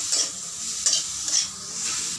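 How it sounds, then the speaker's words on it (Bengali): Grated carrot frying with cumin seeds in a pan, a steady close sizzle broken by a few bright scraping stirs, with no voices. "দিয়ে দেবো গাজরের কুড়ে রাখা গাজর, দিয়ে এটাকে আমি কষে নেব"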